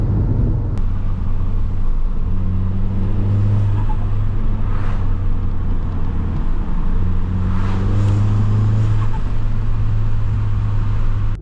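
Steady interior rumble of a Stage 2 tuned Volkswagen Golf GTI Mk7 engine pulling under load in fifth gear, droning with a couple of rising surges, loud and continuous.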